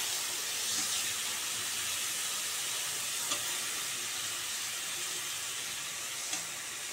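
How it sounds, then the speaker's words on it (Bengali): Cauliflower fries in a pan with a soft, steady hiss and sizzle, faint and even throughout, with a couple of small clicks from stirring and no speech. "কপিটা ভাজা হয়ে গেছে"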